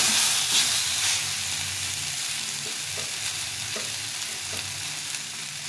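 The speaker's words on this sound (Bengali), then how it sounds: "মশলাটা ভাজা হয়ে গেছে।" Ginger paste and spices fry in a pan with a steady close sizzle and hiss, broken by a few soft stirring scrapes, with no voices over it.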